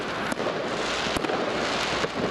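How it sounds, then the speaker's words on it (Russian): Fireworks bang in the distance against a steady crackling, noisy backdrop, with a few sharp pops spaced across a couple of seconds. "Город салют решил устроить"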